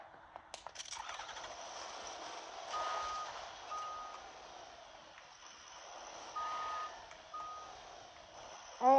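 A truck in the Fortnite video game sounds repeated evenly spaced reversing beeps over a steady engine hum, fairly close and clear, with no voices.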